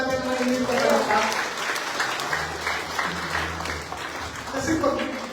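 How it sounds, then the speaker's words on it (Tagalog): A congregation at a Filipino church gathering claps along, scattered steady applause mixed with someone speaking over it and a low sustained tone in the background. "Pwede po ba palakpakan natin ang hindi pa palakpak?"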